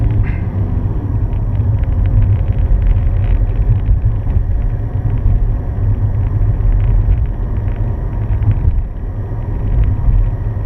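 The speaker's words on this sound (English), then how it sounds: "I'm going to get down to second gear, just braking lightly there" A car travels along a road in Edinburgh's Currie area, its engine and tyre rumble a steady, loud low drone with wind buffeting throughout and no talk.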